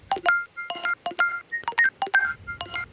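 A clicky Polygrid synthesizer patch plays a quick melody of short, bright, beeping tones with sharp percussive click attacks, clean and fairly quiet with gaps between notes.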